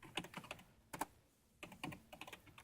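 Typing on a computer keyboard, quiet close-up clusters of key taps with a short pause in the middle before the tapping resumes.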